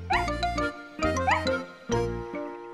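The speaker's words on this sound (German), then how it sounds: "Sie wedelte mit dem Schwanz und bellte fröhlich." Cartoon dog barking happily, three bright, tonal barks spaced about a second apart, close and clear, with a light jingling touch in the animated soundtrack.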